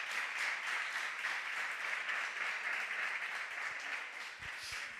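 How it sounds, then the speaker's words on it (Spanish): A church congregation applauding a first-time visitor, a dense, steady roar of many hands clapping together for several seconds, fairly distant and with no voices over it. "Un fuerte aplauso para María Dolores"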